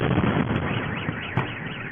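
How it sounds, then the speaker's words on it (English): Car alarms in a parking lot, set off by a drone explosion nearby, sound as a dense, wavering electronic wail filling the space, with a brief sharper burst partway through and no talk. "it set off all the car alarms in the parking lot right over here"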